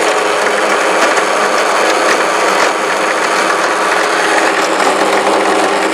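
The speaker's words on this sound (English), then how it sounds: "You would load it into the machine and you would enjoy the fun of destroying some things." A 3DEvo filament-recycling shredder grinds up a plastic bottle cap with loud, continuous mechanical clattering and crunching that carries on throughout.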